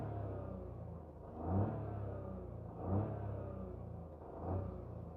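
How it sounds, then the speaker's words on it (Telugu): A 2024 Swift three-cylinder engine revving, heard faintly from inside the cabin as three short, evenly spaced throttle blips rising over a low steady idle hum. "అది ఇంజన్ రోర్"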